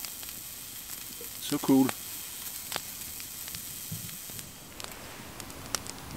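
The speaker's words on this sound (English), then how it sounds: "Yeah, the coffee is boiling now." Coffee bubbling on a small wood-burning hiking fire stove inside a hot tent, a soft continuous sizzle and hiss close by with a brief louder gurgle near the start, and a voice speaks briefly.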